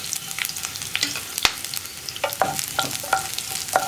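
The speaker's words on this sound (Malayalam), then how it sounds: "ആ വെളുത്തുള്ളിയുടെ ഫ്ലേവർ ഒന്ന് എണ്ണയിലേക്ക് പിടിച്ചു വരുന്നത് വരെ ഒന്ന് ഇളക്കി കൊടുക്കുക" Chopped garlic and dried red chillies fry in hot coconut oil for a ridge gourd stir fry, a close, bright sizzle broken by quick scraping strokes of a spoon stirring the pan.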